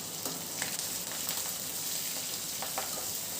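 Snake gourd poriyal with slit green chillies is stirred in a pan, a soft steady sizzle broken by a few light scraping stirs, quiet and close with no talking.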